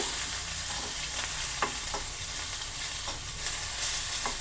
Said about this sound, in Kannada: ಈರುಳ್ಳಿ ಸ್ವಲ್ಪ ಫ್ರೈ ಆಗಬೇಕು